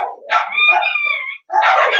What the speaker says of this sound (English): Please excuse the screaming dogs in the background.